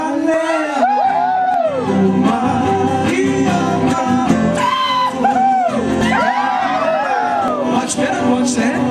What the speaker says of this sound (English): Scream as loud as you can like a Samoan.